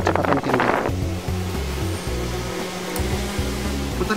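Electric fan (HFN 1253 C / 1453 C / 1653 C series) running at its highest speed setting, giving a steady, close whirring hum with a low rhythmic drone and a brief rustling burst at the start.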